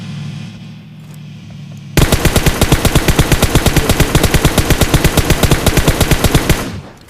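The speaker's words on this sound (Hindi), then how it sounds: "तो आप देख सकते हैं कि जब मैं उस पर अपने टारगेट पर फायर करता हूँ तो ये क्या कर रहा" Rapid automatic gunfire from a weapon fired at a target in PUBG Mobile, a loud, steady stream of evenly spaced shots that starts abruptly and runs for about five seconds before cutting off.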